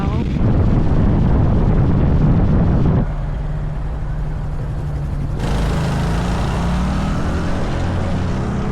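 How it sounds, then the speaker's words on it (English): Strong wind roars loudly against the microphone outdoors, a dense, continuous buffeting rumble that keeps going throughout with no break. "It's also really windy right now"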